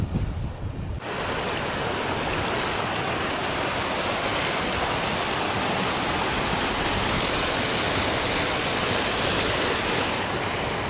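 Water rushes continuously in a dense, steady roar, like a fast-flowing creek heard up close, loud and unbroken throughout, beside Kennedy Meadow Campground on the Pacific Crest Trail.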